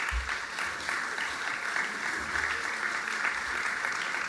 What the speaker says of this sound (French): Et on peut les applaudir à nouveau